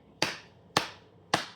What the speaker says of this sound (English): A little slow clap for that.